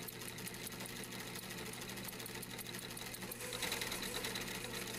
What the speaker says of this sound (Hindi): अब इस शलवार को बेल्ट के साथ सिएंगे, बिल्कुल फ्रंट के साथ मिला के इसकी सिलाई की जाएगी।